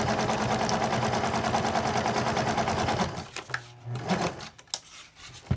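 A sewing machine zigzag-stitches fabric trims in a rapid, even mechanical rattle for about three seconds, close and loud, then stops, leaving a few soft clicks and handling noises.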